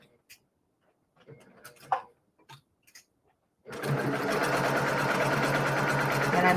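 A sewing machine stitching quilt mosaic squares starts after a few quiet handling taps, then runs in a fast, steady, close whirring rattle that holds to the end.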